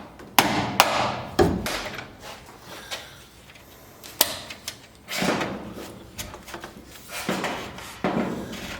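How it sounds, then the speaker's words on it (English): Sharp metallic hammer strikes knocking knockouts out of a metal electrical box in a framed metal garage, several loud irregular blows spaced across the clip with ringing tails and quieter handling between. "Usually I just use a hammer."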